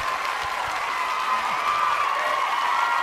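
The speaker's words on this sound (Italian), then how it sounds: "Vai con gli applausi, regia, facci sentire questi applausi per queste mamme" Applause played in a TV studio plays as a steady, continuous wash of clapping from a crowd, lasting the whole stretch without pause.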